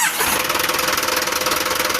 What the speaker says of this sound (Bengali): দেখতেই পাচ্ছেন গাড়িটি কিন্তু ইঞ্জিনটা স্টার্ট অবস্থায় আছে, দেখতেই পাচ্ছেন খুবই ভালো একটি সাউন্ড